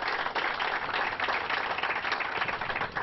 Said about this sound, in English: This is a place, yep, that deserves a round of applause.